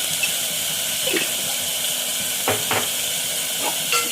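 Tomato and spice masala with chili powder, garam masala and turmeric sautés in a pan for pepper chicken gravy, giving a steady sizzling hiss with a few soft stirring scrapes, close and without talk.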